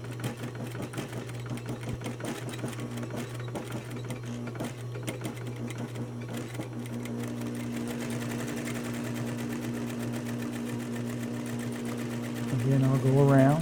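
A sewing machine stitching a fabric cuff, running steadily with a constant mechanical hum and rapid needle clatter, under a speaking voice, growing slightly louder near the end.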